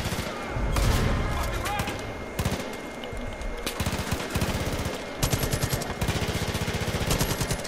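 Gunfire in a Far Cry 5 gunfight: rapid automatic bursts and scattered single shots crack repeatedly over the whole stretch, loud and dense, with brief lulls between volleys and faint voices underneath.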